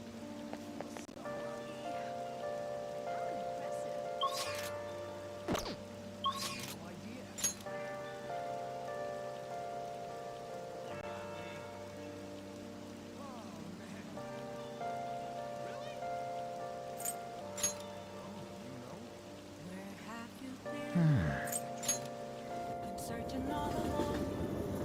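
In the video game Persona 5 Royal, steady rainfall patters softly throughout under a sustained musical soundtrack, with occasional brief clicks and a louder rushing swell near the end.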